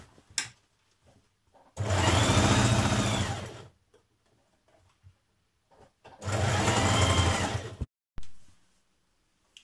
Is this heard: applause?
no